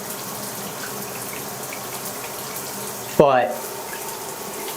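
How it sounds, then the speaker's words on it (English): Water streams from a Niagara Sava Spa showerhead, model N2515CH, in a tiled shower as a steady, soft hiss of spray; a brief spoken word cuts in near the end. "this is your water flow out of it"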